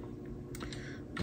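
Brief burst of typing on a computer keyboard while setting up a Windows 11 virtual machine in VMware Workstation, a few close clicks over a low background hum.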